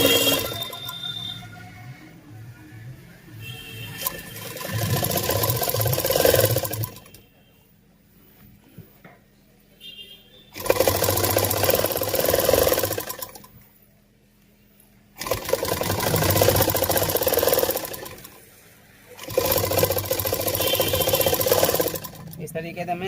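Sewing machine running in bursts as it stitches fabric, with pauses of near silence between runs of steady mechanical whirring and clatter, fairly close and moderately loud.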